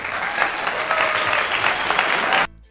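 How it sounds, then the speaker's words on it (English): An applause sound effect, dense and loud crowd clapping that holds steady and then cuts off abruptly near the end. "I feel like I need an applause right here."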